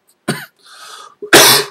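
A person coughs in two short, close bursts, a lighter one first and a louder, harsher one after a pause, with a faint breathy rasp in between; the cough comes from a throat tickle.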